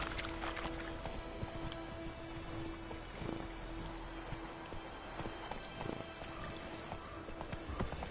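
Horse hooves cantering in the fantasy video game The Witcher III: The Wild Hunt, a steady rhythmic clip-clop running throughout against a low ambient backdrop, with no talking.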